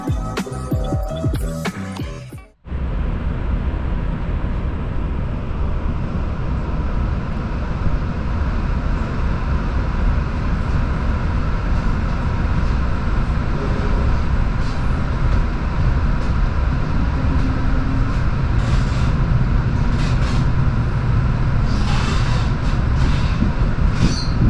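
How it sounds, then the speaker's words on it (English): After a short burst of other noise, a Vivalto passenger train bound for Rome rumbles along the tracks with steady rolling noise, rattles and occasional squeals from the wheels. "We're now heading to Rome and can listen to the sound of our train."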